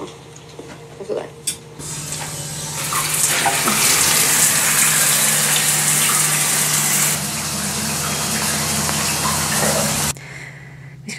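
Shower water running indoors, a strong steady hiss and gush that starts after a few soft knocks, holds loud for about eight seconds with a slight drop midway, then cuts off abruptly.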